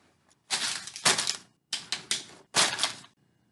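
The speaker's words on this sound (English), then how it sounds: "I forgot to sharpen my pencils" A pencil sharpener grinds in three loud, close bursts, each lasting under a second, with short pauses between them.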